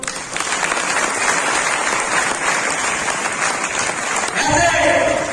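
Audience applause at a training event fills the clip, steady and loud throughout as a dense wash of clapping hands, with a rise in intensity near the end and faint voices mixed in.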